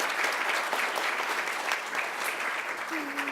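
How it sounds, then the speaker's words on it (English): An audience gives conference panelists a sustained round of applause at a young women's career event, dense steady clapping filling the whole stretch with a faint voice near the end. "let's go ahead and give all of our panelists one more round of applause"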